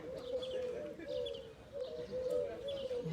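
Pigeons coo steadily in soft, rolling phrases, a flock nearby, over faint outdoor background noise.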